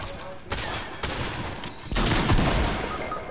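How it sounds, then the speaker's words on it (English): Rapid gunfire bursts from a Fortnite match crackle loudly and repeatedly across a few seconds, with sharp onsets around each volley and a denser barrage toward the end. "Oh my god, who just shot me?"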